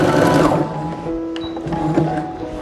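Sewing machine stitching hooks onto fabric, a close, loud rapid mechanical whir of needle strokes that eases into a lighter, slower run of stitching.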